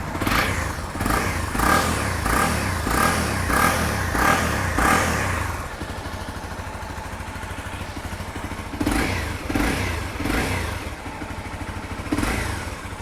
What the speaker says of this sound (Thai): เดี๋ยวลองเบิ้ลให้ฟังครับ